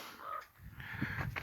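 Crow-like caws, which people on a train trip through the Colorado and Utah mountains took for falcons, ring out in short repeated calls over steady background rumble, at middle distance and fairly loud.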